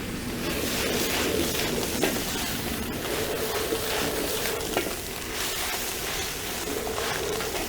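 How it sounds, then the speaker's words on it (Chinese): Minced garlic and pea shoots stir-fried in a wok over hot oil give a loud, steady sizzle throughout, with scraping and tossing clatter mixed in. "把它炒匀，炒到变色就可以了。"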